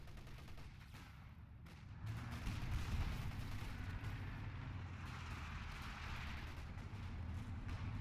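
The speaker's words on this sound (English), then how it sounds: "Light infantry guns with their superior reach are already bombarding these ones" Light infantry guns bombard in a WWII battle for Caen game, a rumbling, dense layer of distant shelling and gunfire that grows louder after a quieter opening and continues steadily.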